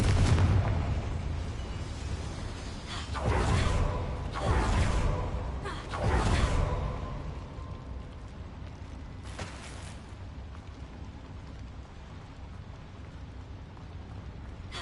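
Booming fire-spell blasts from a Harry Potter video game, several heavy explosive whooshes in quick succession followed by a lingering crackling rumble and mechanical creaks, no voices.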